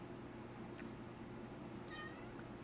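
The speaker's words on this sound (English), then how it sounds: "You playing with the cat while we're on stream?" A house cat meows a few times, short and fairly faint, over a steady background hum with no talking.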